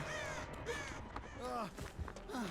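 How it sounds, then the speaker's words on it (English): Crows caw repeatedly in the Dead by Daylight video game, harsh calls coming in quick clusters at moderate loudness, mixed in with game sounds and voice chatter. "I hear AFK crows."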